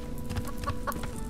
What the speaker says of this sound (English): Let me check these chickens right quick.